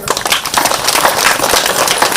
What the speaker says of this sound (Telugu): సరే గట్టిగా క్లాప్ చేద్దాం